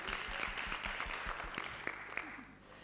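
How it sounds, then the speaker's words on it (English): A conference audience at a typography event gives a quiz's participants a round of applause, dense and continuous clapping that fades slightly toward the end, heard on its own. "Please give them a big applause."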